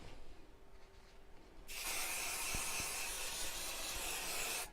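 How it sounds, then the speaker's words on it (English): Basting spray hisses from a can onto quilting fabric in one steady, close burst lasting a few seconds, after a quiet start. "But as it's a sewing, I will need to use some basting spray."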